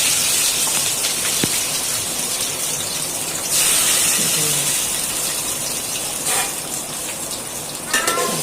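Green chilies hiss and sizzle steadily in hot oil while carp is being cooked at home, a close, continuous broadband frying hiss with a few brief louder surges and faint stirring clinks.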